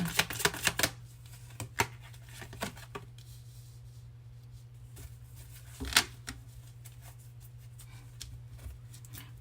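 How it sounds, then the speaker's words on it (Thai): Tarot cards are shuffled by hand at close range, with quick irregular riffles and soft slaps in bursts, some louder than others, over a steady low hum and no talking. "สับไพ่อันนี้ให้ด้วย"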